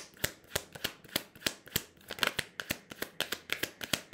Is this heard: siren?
no